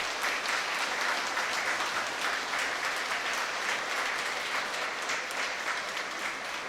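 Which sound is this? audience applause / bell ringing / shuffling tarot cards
audience applause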